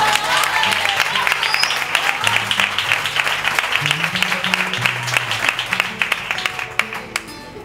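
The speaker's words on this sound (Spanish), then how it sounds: "Un aplauso para él, por favor." An audience at a Spanish album-launch concert breaks into sustained, steady applause, a dense wash of clapping from start to finish with a low instrumental tone beneath.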